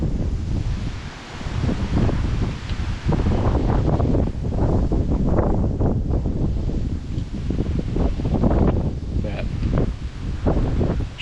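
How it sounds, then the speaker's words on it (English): Gusty wind blows across open farm fields, a loud rushing buffet of air on the microphone that rises and falls in waves throughout, with rustling beneath. "this ain't even a horribly strong breeze"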